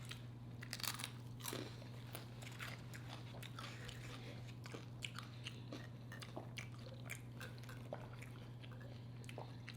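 Crunchy food is bitten and chewed close up, with a run of sharp, irregular crunches and crackles over a low steady hum, no talk.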